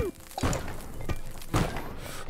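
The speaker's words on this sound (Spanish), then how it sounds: "La explosión me acaba de quitar 130." Bombs exploding in the video game Undermine, heard as a few heavy thuds and crunching blasts over game background sound, close and fairly loud, with one burst early and another later.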